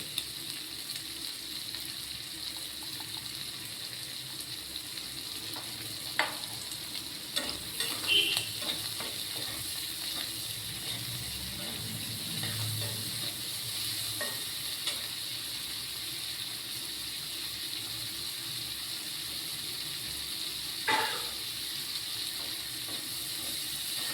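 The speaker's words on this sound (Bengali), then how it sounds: "এটা একটু ভাজা ভাজা হবে।" A little oil sizzles steadily in a pan as food fries with salt and turmeric, with occasional scraping stir strokes over the continuous faint crackle; no one speaks.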